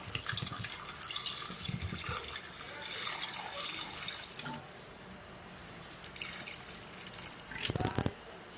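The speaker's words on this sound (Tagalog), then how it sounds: "Lagyan natin tubig mula sa Ilog Pasig" River water runs and splashes steadily into a cooking pot holding chayote, stops partway, then resumes in short bursts, close and fairly quiet.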